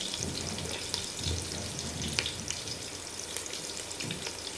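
Ginger garlic paste frying in hot oil gives a steady, close crackling sizzle with small pops throughout, with no talking.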